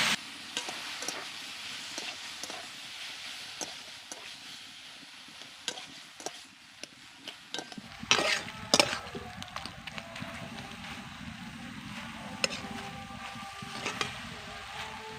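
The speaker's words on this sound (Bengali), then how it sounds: "এবার দিয়ে দিচ্ছি সেদ্ধ করে রাখা ফুলকপি এবার ভালো করে মশলার সঙ্গে মিশিয়ে নেবো" Boiled cauliflower stirred into fried spices in a pan for paratha filling, a soft sizzle with scraping stirs and utensil clicks, getting busier and louder about halfway through.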